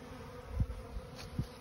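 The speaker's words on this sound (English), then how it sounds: "the bees are still flying" Quiet buzzing of honey bees flying close by around a Langstroth hive, with a few louder passes swelling and fading over a soft outdoor background.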